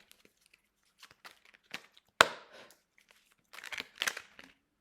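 A card drawn from a deck during a French-language card reading: scattered soft paper rustles, one sharp snap midway, then a brief flurry of shuffling and flicking, close and fairly quiet.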